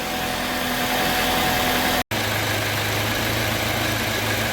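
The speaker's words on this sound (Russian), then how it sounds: "Но мотор не прожаренный, он стоит на месте, тарахтит." A UAZ Patriot engine idles steadily in place, not fully warmed, with a continuous near rattling drone and a brief dropout midway.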